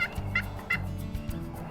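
Wild turkey gobbling in a Pennsylvania spring hunting setting, a few quick rattling gobble bursts close together, clear and fairly loud with nothing else over them.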